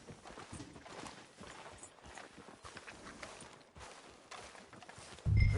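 Horse hooves clip-clop at a steady walking pace in the Red Dead Redemption 2 video game, continuous and moderately quiet across the clip, ending with a louder low thump.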